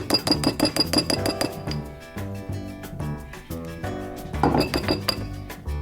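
A spoon clinks rapidly and repeatedly against a glass bowl while honey is added, bright close chimes in quick bursts, a pause, then another flurry.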